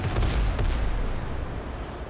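Ship cannons boom in a pirate naval battle in Scallywag Windrose, a loud, rumbling volley of overlapping heavy shots that rolls on for about two seconds with no voices.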